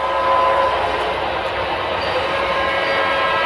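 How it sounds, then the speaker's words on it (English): A model train rolls along the Granite Gorge and Northern layout near a tunnel and guard shack, giving a steady, loud, continuous rumble throughout. "As the train approaches from where the guard shack is at, it blows the whistle"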